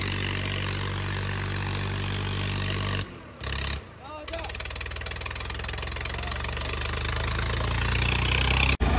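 A tractor engine, reported with a smoking cylinder, idles and runs nearby with a steady low throbbing hum, briefly cutting out twice before resuming and building slightly louder, as people talk over it.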